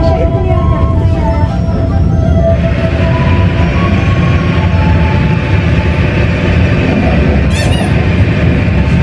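Tegal Bahari economy passenger train running, a steady loud rumble of wheels and carriage noise with occasional squeaks and a brief high screech near the end.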